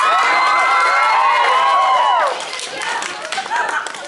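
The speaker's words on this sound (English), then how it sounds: "Again, you didn't have to cheer for that" A stand-up comedy audience cheers and whoops loudly, with high shouts and whistles that fill the room. The noise then drops to scattered clapping and chatter.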